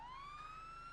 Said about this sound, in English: Turning on the sirens.